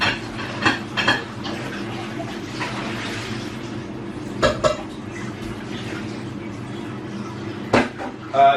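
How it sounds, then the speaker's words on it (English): Running water rinses a pan in a home kitchen, a steady wash of splashing with a few sharp metallic knocks and clatters of the pan against the sink, fairly close, with no talk. "the next thing I'm going to do is rinse my pan out"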